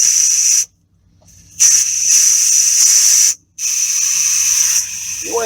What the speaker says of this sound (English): So we're going to release the steam here.